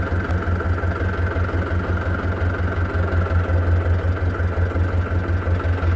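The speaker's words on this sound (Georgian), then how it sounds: "აი ახლა გავაჩერებ უკვე ამ ჩემ ზვირფას ტრაქტორს" A tractor engine idles steadily at a vineyard harvest in Kakheti, a low, even chugging rumble with a regular pulse, close and continuous with no voices.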